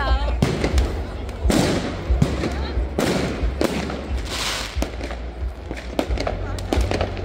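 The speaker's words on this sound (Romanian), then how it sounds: "Se văd absolut toate artificiile." Fireworks exploding in a loud sequence of sharp bangs and crackling bursts, several close together, over a constant low rumble, with faint voices mixed in.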